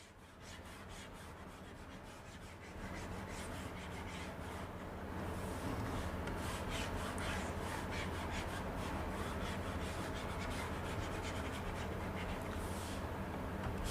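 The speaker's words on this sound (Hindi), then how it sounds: "अब यहाँ पे ये सबसे पहले मैं रब कर देता हूँ" A duster or eraser rubs writing off a classroom board in steady, rasping back-and-forth strokes. It is continuous and close, growing slightly louder partway through, with no voices.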